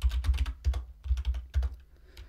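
Keystrokes on a computer keyboard pressing Control X to exit the nano text editor, a few quick clustered taps in bursts, close and clear with no voices.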